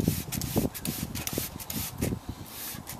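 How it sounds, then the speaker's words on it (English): Short bursts of cleaner spray hiss repeat irregularly onto golf cart pedals and floorboards, several quick pumps close by with soft rubbing between them. "I can go around and spray the pedals"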